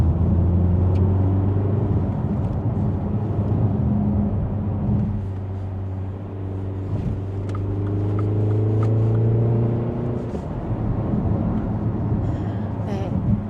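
A 2025 Mini Countryman JCW accelerates in go-kart mode on the road, its engine droning steadily and climbing in pitch as it pulls, heard from inside the cabin with someone talking over it.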